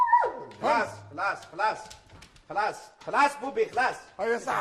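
A dog gives repeated whimpers and short yelping barks in a domestic setting, mixed with a voice talking close by.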